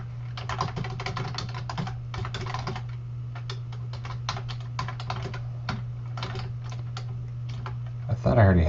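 Code comments for a Visual Basic exercise are typed on a computer keyboard in quick, close bursts of keystrokes separated by short pauses, over a constant low hum, ending in a louder knock.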